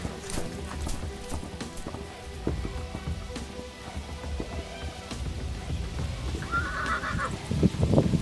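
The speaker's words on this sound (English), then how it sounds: "These are the Namib desert horses, one of the only wild horse populations in Africa." Wild Namib desert horses mill about in the open, with scattered hoof clops and stamping, rustling movement and a short whinny near the end, close by and fairly quiet, with no talking.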